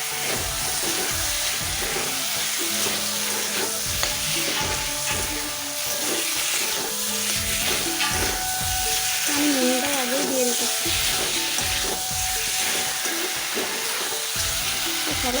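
Boiled potatoes sizzle and fry in a pan with stirring and scraping, while a person talks over the cooking noise.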